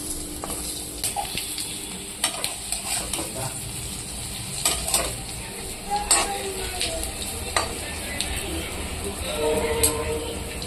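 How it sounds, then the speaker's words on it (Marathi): Flipped slices of alu vadi shallow fry in oil, a continuous sizzle broken by scattered clicks and scrapes of a spatula, with faint background noise and no clear talk. "आता पलट्या बाजूनी पण असं चांगलं त्याला भाजून घ्यायचं"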